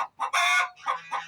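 A hen clucks close by after laying an egg, a quick run of loud, raspy squawks and short clucks in an uneven rhythm.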